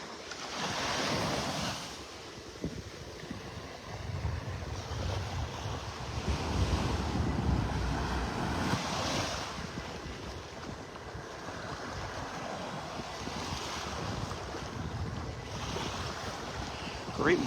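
Ocean waves wash onto a North Naples, Florida beach on a mild morning, a steady rolling surf roar with swells every few seconds and breezy wind buffeting the microphone throughout.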